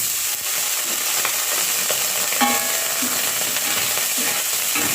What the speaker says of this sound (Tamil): ஒரு சட்டிக்கு ரெண்டு கரண்டி கோகோனட் ஆயில் ஊற்றிக்கிறோம் அதுக்கு நாங்கள் இப்படி வெட்டி சிறுசு சிறுசாக வெட்டின இறைச்செல்லாம் கொட்டுவோம்